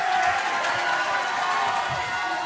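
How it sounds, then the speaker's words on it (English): High school boys' basketball crowd for Shalhevet against Hebrew Academy Miami cheering loudly after a three-pointer, a dense, sustained roar of many voices filling the gym without letup. "Shalhevet crowd going crazy"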